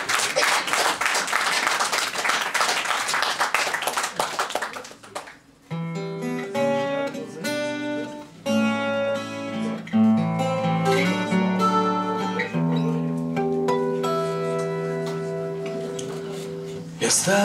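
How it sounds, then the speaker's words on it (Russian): An audience at a Russian poetry and song concert claps loudly and densely for about five seconds before the applause gives way to sustained instrumental music. "Аплодисменты нашим женщинам."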